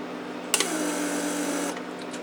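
A Mercedes central-locking pump, repaired and given power, runs for about a second with a steady buzzing whir as it pressurizes the circuit, starting and stopping abruptly over quiet background hum.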